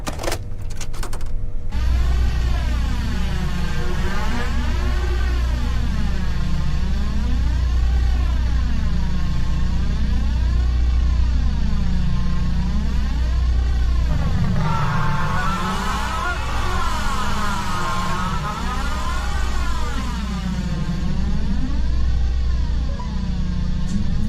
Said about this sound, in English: When played, you can hear the toy car screech, screams, and other things that happens inside the tape.